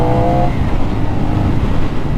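A CFMoto 450 NK motorcycle pulling in second gear: a loud, steady engine drone close to the rider, holding an even pitch for a couple of seconds with no talk.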